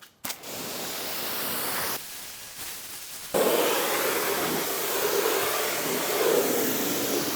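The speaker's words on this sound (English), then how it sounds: "I'm gonna go ahead and rinse this stuff away." Water rinses Turtle Wax Max Power car wash soap off a car, first as a softer hiss, then as a loud, steady, broadband spray that continues to the end.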